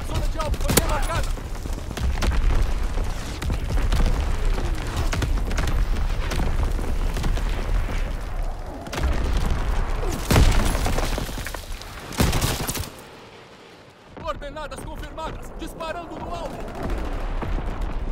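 Heavy gunfire and booming artillery in a military shooter game roll on continuously and loud, with dense bursts and blasts layered together, dropping briefly before resuming; voices speak over parts of the barrage.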